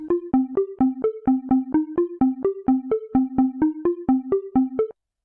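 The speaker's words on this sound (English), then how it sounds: "you get the entire filter sweep sounding rather than cutting off in between steps" Synth lead arpeggio with the gate set to maximum, each step sustained through a full filter sweep instead of cutting off, a steady rapid run of connected notes that stops abruptly, loud and alone.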